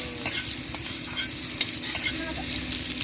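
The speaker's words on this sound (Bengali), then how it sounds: "এগুলো একটু ভাজা ভাজা করে এখন দিয়ে দেবো দুটো জিরে" Cumin seeds, bay leaves and dried red chillies fry in hot oil in a wok with a steady crackling sizzle, stirred with scraping strokes, heard up close with no talk.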